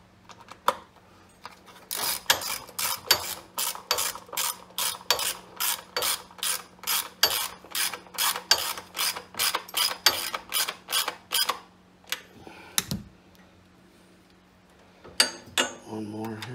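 A hand ratchet tightens bolts on a Generac XP8000E generator during a propane and natural gas conversion, giving a close, rapid run of regular clicks followed by a few scattered ones, with a little talk around it.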